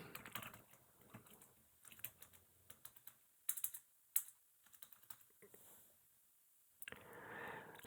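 Someone types on a computer keyboard, a quiet run of quick, irregular key clicks in short bursts separated by brief pauses, close and faint with no talking.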